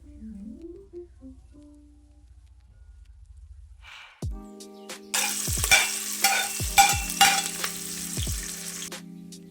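Ghee heating in a pressure cooker for Kerala beef rice crackles and sizzles, quiet at first, then rising into a dense, steady frying hiss with scattered pops and clinks of a spoon against the pot, with no talking.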